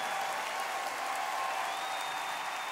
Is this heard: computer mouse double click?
no